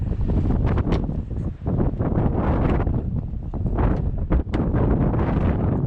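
Strong wind buffeting a microphone outdoors beside a BMW E90 M3, a loud continuous low rumble with gusty swells that persists throughout.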